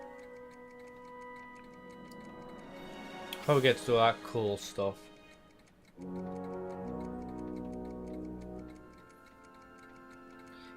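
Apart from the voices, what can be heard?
ticking kitty cat clock in Back to the Future video game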